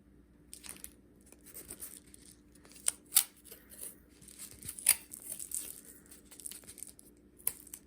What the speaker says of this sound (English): I do have this really fun tape. So I'm gonna take some off